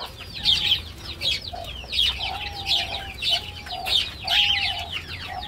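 Hens clucking inside a cage, a steady series of loud, close, repeated clucks and squawks with short pauses between calls, alone without talk.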